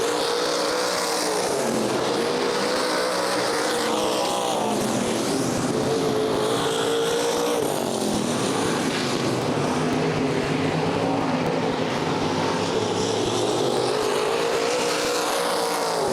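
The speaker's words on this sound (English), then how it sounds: "Clay Kime, Kenny Clark Jr. racing out of turn 4 side by side." Race cars roar around Fremont Speedway during the 2014 Race of Legends, a loud, continuous engine drone with pitch rising and falling as cars run side by side out of the turns.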